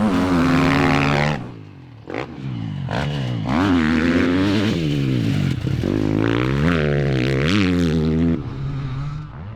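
A KTM dirt bike with soft suspension rides past on a hard, dry track, its engine loud and close, revving and rising and falling in pitch as the front wheel pops up.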